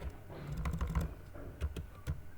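Irregular clicks of keys on a computer keyboard as a command is typed into Mathematica, light and close, in short bursts with small pauses, no talking.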